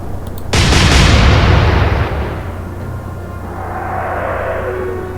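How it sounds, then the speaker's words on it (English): Warship guns in the naval strategy game Atlantic Fleet, German side, open fire with one heavy booming salvo that rolls out and decays over several seconds, followed by a low rumble with a faint whistling tone. "Open fire. Fire!"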